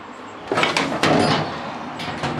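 A drawer in a tool chest slides open with a couple of scraping, rattling pulls, close and fairly loud, with contents shifting inside.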